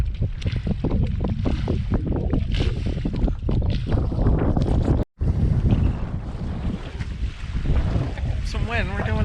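Steady wind roars against the microphone on a sailboat heading out beyond Key West, with water noise beneath it and someone talking over it throughout.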